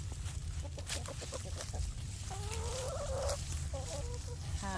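Rooster clucking and crowing in a backyard chicken setting, a run of short close clucks followed by longer drawn-out calls over steady low background rumble, with no speech.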